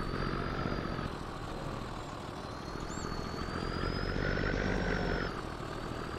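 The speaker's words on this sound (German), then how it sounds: "der hat hier Motorbremse mit offene Abgasanlage" A truck in Farming Simulator 22 running an engine brake with open exhaust, a deep, rumbling drone with a high whine that swells and eases back, continuous and fairly close, no voices.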